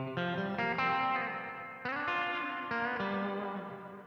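Electric guitar chords through the spring reverb setting of an Eno reverb pedal, a few strummed chords ringing out with a metallic, splashy tail, moderately quiet and with no voices.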